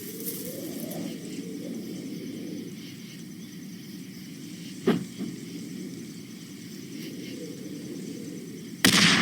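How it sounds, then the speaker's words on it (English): Stick grenade blasts in the World War I-era shooter Darkest of Days, with a sharp explosion midway and another loud burst at the very end over steady battlefield ambience. "These are standard issue stick grenades. Just aim and let them fly."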